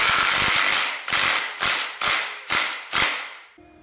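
A ratchet tightens dirt bike clutch bolts in a series of loud, close bursts of rapid clicking: one long run, then five shorter strokes at an even pace, ending on a faint metallic ring.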